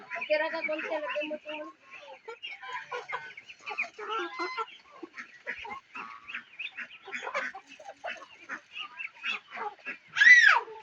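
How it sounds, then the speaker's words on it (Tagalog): Ducks honk and quack in a busy, continuous chorus with voices mixed in, ending with one louder, sharper squawk close by. "Nakalabas naman yung mga pato."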